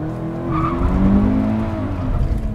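A 2019 Subaru BRZ RAIU Edition, 2-liter four-cylinder boxer, launches hard from a clutch start, tires squealing in a sustained loud skid over rising engine roar, no voices.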